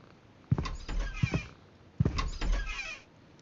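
A house cat meows twice indoors, two short close calls about a second and a half apart, each with a soft low rumble that may be purring, heard alone without talk.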